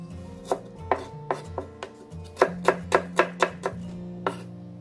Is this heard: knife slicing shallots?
yes